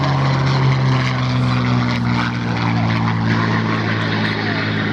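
A restored WWII fighter flies at the Duxford Battle of Britain air show, its propeller engine giving a loud, steady, droning roar with a strong low hum throughout, under a voice talking.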